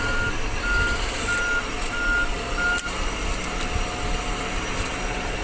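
Sugarcane harvester backing up, its reversing alarm giving five evenly spaced beeps over a steady, loud engine drone in the open field.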